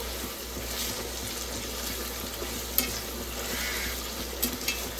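Prawns frying in a pan for gongura curry, a steady soft sizzle with a spoon stirring and a few light scraping clicks near the end, moderately close and without speech.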